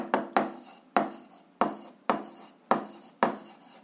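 Pen or chalk strokes while writing out a lever equilibrium condition, heard as seven crisp, evenly spaced scratchy taps close by, each quickly fading, with no talk.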